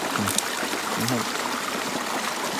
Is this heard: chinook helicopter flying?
no